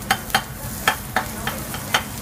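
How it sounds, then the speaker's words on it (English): Onion frying in a little extra virgin olive oil in a pan, a steady sizzle broken by several sharp stirring scrapes at an irregular rhythm, close and alone. "Frying. Can you see the sound?"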